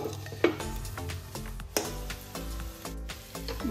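Bitter gourd frying with grated coconut in a pan, stirred by hand: a steady soft sizzle with repeated scraping and knocking of the spatula against the pan, close and fairly quiet, no talking.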